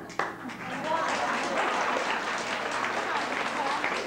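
A studio audience at a television talk show breaks into sustained applause that starts sharply and holds at a steady, dense level throughout, with many hands clapping together.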